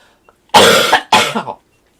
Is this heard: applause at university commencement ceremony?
no